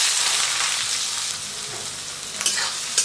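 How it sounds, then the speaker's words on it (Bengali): Two large, finely chopped onions sizzling in hot oil with cumin seeds and cardamom, a steady close hiss with a few sharp pops and stirring scrapes near the end. "পেঁয়াজটাকে খুব ভালো করে ভাজা করে নিতে হবে।"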